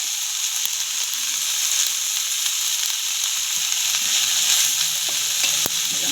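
Tomatoes are stir-fried for a Bengali morola fish curry, giving a steady, close hiss of frying oil with a few soft stirring scrapes and clicks, and no voices.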